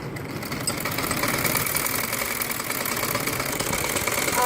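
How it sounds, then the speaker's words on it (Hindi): Steady, continuous mechanical whir of a sewing machine stitching a jali poncha (trouser hem), running close and even throughout without pause. "दूसरा पोंचा भी इसके साथ सिलाई कर रही हूँ।"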